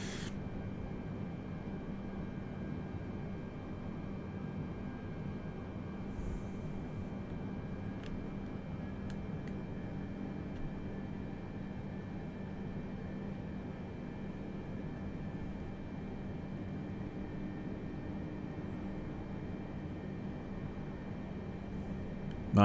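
An Antonov An-124 taxiing at a snowy JFK in Microsoft Flight Simulator 2020, a steady low engine hum with a constant whine, faint and unchanging throughout.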